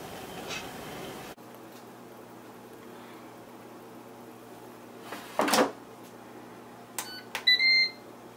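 An air fryer's control panel gives a few short electronic beeps near the end, after a brief louder clunk, in an otherwise quiet kitchen.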